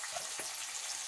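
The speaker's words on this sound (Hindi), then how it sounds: "तो मैं डालती हूँ इसमें लहसुन के पत्ते" Garlic leaves drop into onions frying in a pan, producing a soft, continuous sizzle and hiss throughout this brief moment, with no voices.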